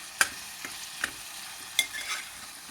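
Tomato masala with yogurt, cooked for mutton biryani, is stirred in a pan, producing a few sharp, separate spoon scrapes and clicks over a faint background hiss, quiet and close.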